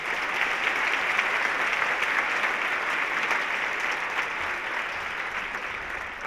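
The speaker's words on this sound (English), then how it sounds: "Let's give them another round of applause." An audience at a Veterans Day program applauds a choir, band and orchestra, with loud, sustained and even crowd clapping filling the whole stretch and no voices over it.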